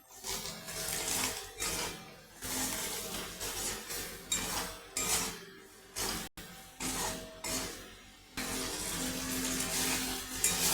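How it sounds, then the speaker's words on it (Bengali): Water is poured into masala frying in oil with turmeric, chili powder, cumin, salt and green chilies for a tilapia curry, a loud close hiss and sizzle that rises and falls in repeated surges. "একটু সামান্য জল দিয়ে কষি।"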